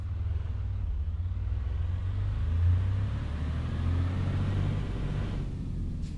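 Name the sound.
truck engine in American Truck Simulator video game, modded engine pack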